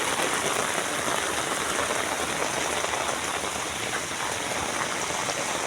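Heavy rain pouring down on a flooded street, a dense, loud, unbroken hiss that stays steady throughout with no voices.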